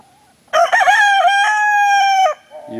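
A chicken gives a single loud, drawn-out crow-like call lasting about two seconds, close to the microphone, ending in a brief quieter sound.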